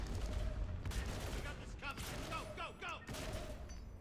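Shotgun and assault rifle fire in the Mass Effect video game, a sustained clatter of shots with brief whooshing weapon effects, loud and close, with a voice briefly audible under the firing.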